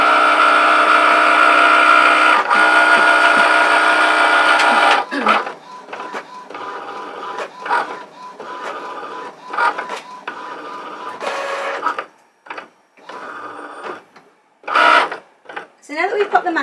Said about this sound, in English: you can see that the machine is scanning the page and it's just looking for those registration marks